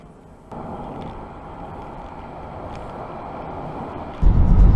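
Steady in-car engine and road drone from a car cruising at 70 mph in 4th gear at about 2,750 rpm, a constant even hum that swells louder near the end.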